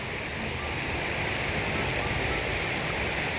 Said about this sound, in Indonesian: Ini tuh nempel sungai semua terus aja sepanjang sungai ini ya.